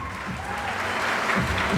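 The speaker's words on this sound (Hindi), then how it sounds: "एक बार जोरदार तालियां होनी चाहिए." Audience applause at an IT Olympiad award distribution ceremony, steady clapping filling the hall at moderate level throughout, with no voices standing out.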